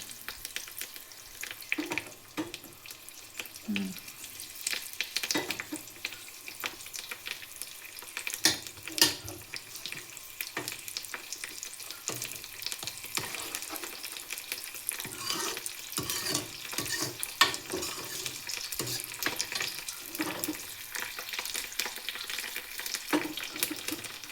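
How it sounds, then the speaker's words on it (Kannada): Mustard seeds, dried chillies and curry leaves frying in oil for a tempering for dill leaf saaru, a close, continuous sizzle with crackling pops and occasional stirring clinks, no talking. "ಸೊ ಎಲ್ಲ ಚೆನ್ನಾಗಿ ಎಣ್ಣೆಯಲ್ಲಿ ಫ್ರೈ ಆಗಬೇಕು. ಸಾಸಿವೆ, ಒಣಮೆಣಸು ಮತ್ತು ಕರಿಬೇವು ಸೊಪ್ಪು."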